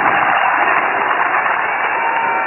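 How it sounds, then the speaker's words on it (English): Sustained, even applause from a golf gallery at the US Open, warmly sympathetic for a player finishing his round, dense crowd clapping held at steady loudness throughout with no talk over it. "Sympathetic applause for whenever someone has an injury or medical situation as he has had this week"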